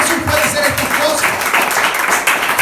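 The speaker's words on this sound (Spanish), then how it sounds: "Vamos a aplaudirlo nuevamente, porque solamente Jesús puede hacer estas cosas" Church congregation applauding together, a dense, steady wash of clapping throughout with voices mixed in.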